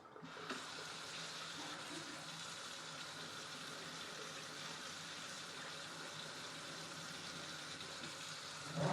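Hot water runs steadily from a kitchen tap into a sink for dish washing, a continuous broadband gush lasting throughout with no talking.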